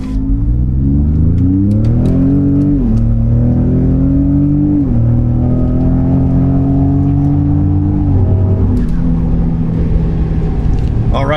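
A 2020 Ford Raptor fitted with larger Garrett turbos and an upgraded intercooler accelerates at full throttle from a standstill. The loud engine roar climbs in pitch, dips briefly at each upshift, then climbs again.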